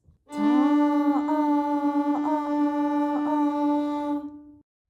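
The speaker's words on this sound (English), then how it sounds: "and on the violin it will sound like this." A single bowed violin note held steadily for about four seconds, its tone wavering slightly with a few subtle bow changes before it stops cleanly.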